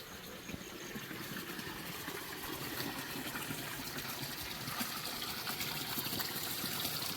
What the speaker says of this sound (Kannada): ಇದರಲ್ಲಿ ಅನಾವರತ್ತು 365 ದಿವಸ ನೀರು ಬರ್ತದೆ.